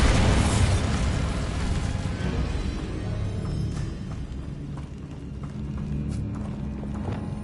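A Bombarda blast spell in Hogwarts Legacy goes off with a loud rumbling burst at the start, then a long debris-laden roar that slowly settles, with no voices.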